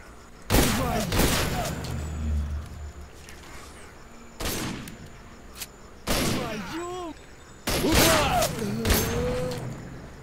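Close-range shotgun blasts in the S.T.A.L.K.E.R. Clear Sky video game, four loud separated bursts with ringing tails, spread across the stretch amid game ambience.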